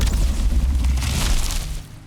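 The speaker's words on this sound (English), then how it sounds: "That's a big explosion." Deep booming explosion in the game Valheim, a low rumbling blast that rolls on for about two seconds before tapering off.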